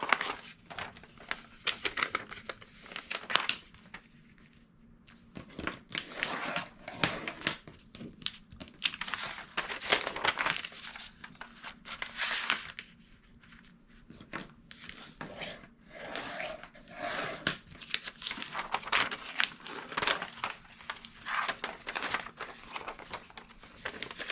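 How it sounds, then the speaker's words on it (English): Scored calendar paper being folded and burnished gives repeated close crinkles, scrapes and rubbing strokes in irregular bursts with brief pauses between them, all fairly quiet. "And now we're going to take this and fold and burnish on those scores."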